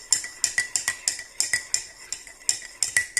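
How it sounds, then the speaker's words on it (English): A spoon stirs a pumpkin spice blend in a container, sending quick rhythmic clinks and scrapes against the sides, close and steady for a few seconds with no voices. "Stir that around."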